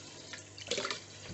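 Water tipped from a mug into the bottom chamber of an Italian moka coffee pot, a short splashing pour of about 300 ml that swells briefly in the middle and then trails off, heard alone at close range.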